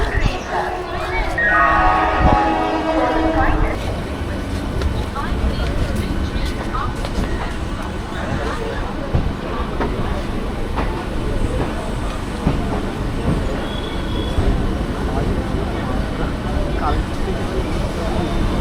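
A train rumbles and clatters steadily nearby at a crowded station in Tarakeswar, with a brief tonal chime early on and people's voices mixed into the rail noise.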